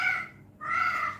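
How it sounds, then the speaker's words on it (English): A pet cat meows indoors in a kitchen, two close drawn-out cries with a brief gap between them, loud and clear with no talking over them. "Excuse the cat."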